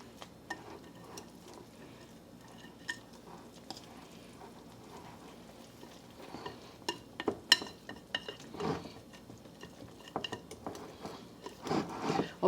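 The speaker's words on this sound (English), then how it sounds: "you want to just whisk this in until it's barely put in" Whisk stirring flour, salt and baking powder into chocolate brownie batter in a bowl, soft quiet scraping and light tapping clicks that grow busier and louder toward the end.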